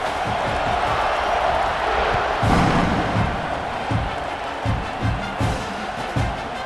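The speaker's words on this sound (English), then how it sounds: "this crowd now ready to get behind them" Stadium crowd at a kickoff in EA Sports College Football 26, a broad continuous roar of cheering that swells midway, with thuds and bursts of noise scattered through the steady din.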